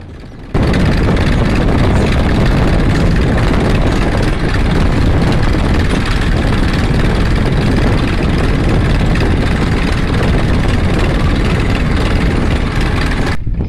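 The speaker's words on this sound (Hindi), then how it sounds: "और फिर मैं कुछ देर के लिए मैं चलाता हूँ ट्रैक्टर को।" A heavy Massey Ferguson 1035 tractor engine drones steadily at close range, a continuous loud low rumble with no pauses and no voices.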